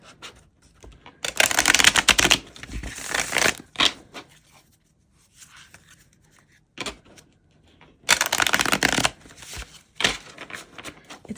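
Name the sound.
shuffling a deck of tarot and oracle cards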